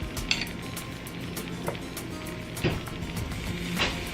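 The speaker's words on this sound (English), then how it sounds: "Ooh, listen to that sizzle." Soft steady sizzling of avocado nacho fries frying in a pan, with occasional clinks of utensils against cookware.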